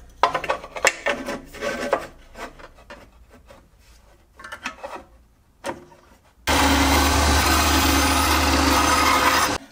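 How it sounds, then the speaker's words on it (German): A table saw ripping a wooden board to width, starting with scattered rasping and rubbing of wood handling before a loud, steady sustained cutting roar fills the final few seconds alone. "Dann machen wir das Beste raus und sägen den dann nochmal auf"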